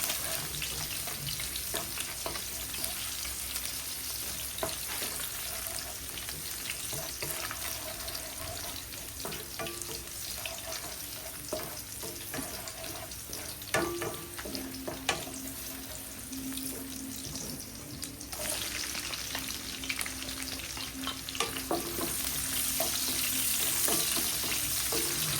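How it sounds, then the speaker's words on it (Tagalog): Chopped onion and garlic sauté in a pan for a Filipino liver adobo, sizzling steadily and crackling up close, with occasional clinks and stirring sounds. "ibubusan natin tong ating sibuyas bawang natin"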